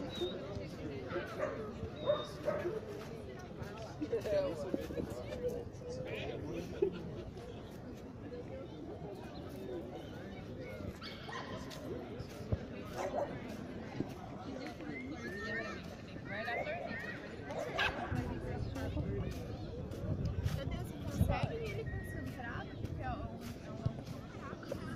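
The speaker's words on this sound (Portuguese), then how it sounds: "Tem mais cachorro." Several dogs bark and yip intermittently at a distance amid a busy outdoor hubbub, with people chattering throughout.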